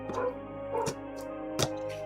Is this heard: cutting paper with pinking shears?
no